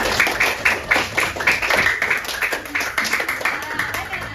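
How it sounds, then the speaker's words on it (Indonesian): A classroom of students clapping together after a lesson question, steady dense patter of hand claps filling the clip, fairly close and moderately loud with a few voices mixed in. "Tepuk tangan buat kita semua."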